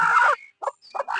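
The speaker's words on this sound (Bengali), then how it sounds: "এটা হচ্ছে আমাদের শেষ মুরগি আর কি" A hen on a poultry farm gives a few short, close clucks in quick succession, separated by brief silences.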